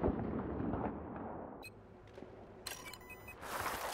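Battlefield 4 gameplay on the Lumphini Garden map: booming mortar and artillery blasts rumble near and far, with a few sharp reports and a distant crackle of gunfire, no talking.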